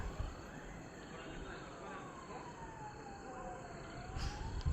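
A police siren sounding across Bhavnagar city during a blackout drill, a long wailing tone rising and falling at a distance over steady outdoor rumble and wind.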